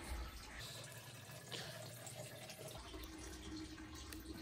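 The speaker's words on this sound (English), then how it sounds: "check out the dirty water that's draining." Dirty water drains from a Wonderwash washer in a steady, faint gurgling trickle, continuous and close, with no talk over it.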